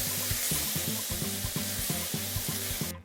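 Chicken searing in a hot frying pan, a steady sizzle with rhythmic knocks like chopping celery nearby, close and moderately quiet, no voices.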